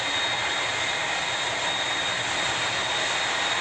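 An airplane engine runs in a video game on an airfield, a steady, loud broadband roar and whine that holds constant throughout with no voices.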